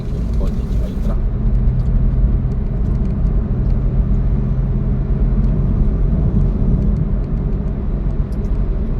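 Traffic on the NLEX expressway in Pampanga: a steady, loud road rumble from inside a moving vehicle as a car and a truck are overtaken, with the low drone holding throughout and a brief brighter hiss near the start.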